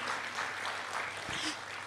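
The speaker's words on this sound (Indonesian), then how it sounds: "Mau beri tepuk tangan buat Tuhan Yesus." Church congregation applauding for Jesus during a Sunday worship service, a steady wash of clapping filling the room for the whole stretch, moderately loud and without any talk over it.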